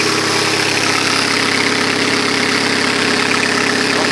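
A 2.2 litre Ecotec engine, newly swapped into a 2000 Saturn LS, idles steadily up close, a constant mechanical hum with a faint ticking rhythm and no voices over it.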